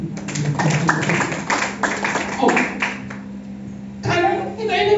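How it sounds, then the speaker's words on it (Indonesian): A church congregation claps in a quick patter, loud and close, with a voice speaking near the end. "Kasih tepuk tangan."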